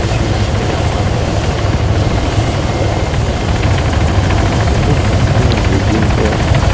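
A helicopter flies in the Arma III video game, its rotor throbbing as a loud, steady, close drone that carries unbroken through the whole stretch.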